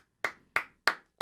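Four slow, evenly spaced hand claps, sharp and close, in a sparse rhythm rather than full crowd applause, heard alone with no voices.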